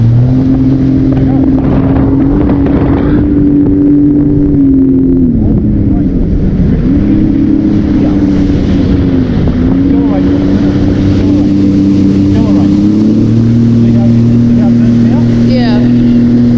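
A jet ski engine drones loudly and steadily on the water, its pitch rising and falling as it accelerates, with heavy wind rush over the microphone.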